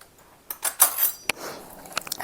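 A knife scrapes across the rim of a measuring cup to level off cocoa powder for an egg- and milk-free chocolate cake, giving several short metallic scrapes and clinks close up after a quiet start.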